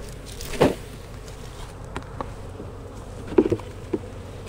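Honey bees buzz around a tote holding a hive's bees, a close, steady drone with individual insects whizzing loudly past now and then, and no talking.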